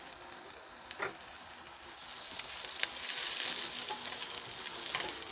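Chopped onion sizzling in hot oil with ginger and garlic, cooked as the base for a ginger carrot soup; a steady, close frying hiss with a few light stirring scrapes and no talking.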